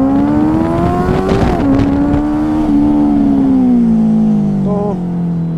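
A Benelli 600i motorcycle engine revs up and accelerates close by, its loud buzzing tone climbing and dipping across a few seconds, heard alone.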